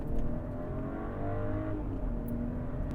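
A 2024 Mercedes-Benz GLE 450 4Matic AMG Line SUV accelerates, its engine note rising steadily with tyre and road rumble heard from inside the cabin, no talk.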